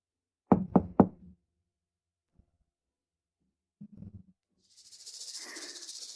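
Three quick, loud knocks on a door, followed by a faint thump and a softer muffled cluster of knocks, then a hiss of noise; no one speaks.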